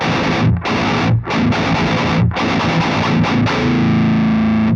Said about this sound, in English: you can really hear just how defined each individual chug is